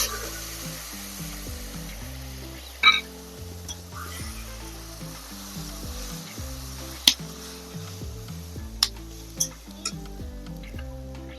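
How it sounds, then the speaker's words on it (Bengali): Ginger, garlic and green chilli paste fries with softened tomato for a Bengali village-style jackfruit curry: a steady close sizzle, broken by a few sharp clinks of a spoon against the pan. "এখন দিয়ে দিব আদা, রসুন, কাঁচা লঙ্কা পেস্ট।"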